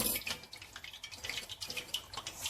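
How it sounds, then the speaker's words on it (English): Meat stock poured into a cooking pot for Sudanese kebab, a quiet splashing, trickling flow with soft drips, continuous and close for a couple of seconds. "now I'm gonna add my stock. Not water, it's just the stock. It's the stock of the meat."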